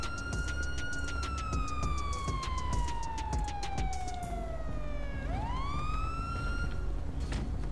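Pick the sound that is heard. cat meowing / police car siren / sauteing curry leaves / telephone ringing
police car siren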